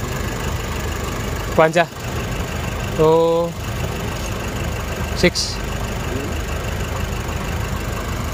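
A Nissan Urvan van engine idles steadily while overheating, a continuous low running hum throughout with short bursts of nearby talk over it.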